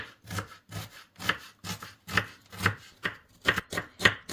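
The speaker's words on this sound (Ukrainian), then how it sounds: "ми беремо цибулю. Я беру дві невеличких, менші за середній розмір. І нарізаю їх." Steady knife chopping of two small onions on a board, about a dozen sharp evenly spaced cuts, close and fairly loud with no voices.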